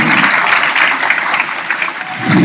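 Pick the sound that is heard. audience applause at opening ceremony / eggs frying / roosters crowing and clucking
audience applause at opening ceremony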